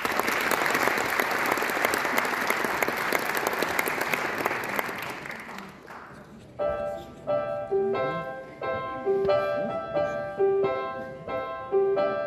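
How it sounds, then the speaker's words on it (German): Audience applause at a senior citizens' arts show: steady clapping for about six seconds before it fades and gentle music with a rhythmic beat takes over. "Und erstmal einen großen Applaus"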